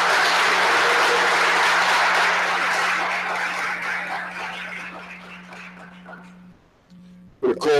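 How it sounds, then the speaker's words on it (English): Audience applause at a Veterans Day ceremony in a town hall, honoring a community concert band; loud, dense clapping that gradually thins and fades out, with a steady low hum beneath and a brief sound at the end. "Let's give another round of applause for the Maplewood Concert Band."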